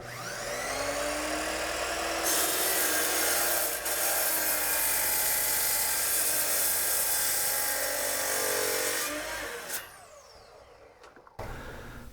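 A table saw with a Felder mitre indexing system slices through wood in a long, loud, steady whine lasting several seconds, the tone sagging as the blade starts to bind, then spinning down alone.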